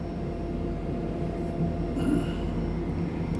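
Passenger train in Italy rolling along with a steady, loud low rumble of wheels and carriage, faint squeals and rattles on top, heard from inside the car with no talking.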